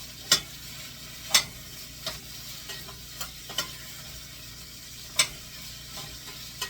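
Green beans cooking down in a pan over low heat give a steady, soft sizzle, broken by several sharp, irregular clicks and taps from stirring against the pan, with no talking.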